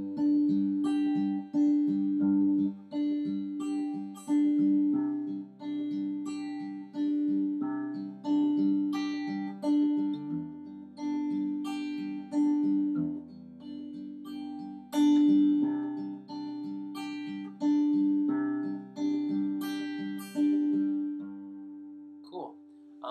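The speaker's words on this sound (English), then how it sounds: "I'll play you just a little bit of this finger picking pattern" Fingerpicked acoustic guitar pattern from a guitar lesson, played alone as a steady repeating bass-and-treble figure with even plucked notes throughout, close and clear with no talking.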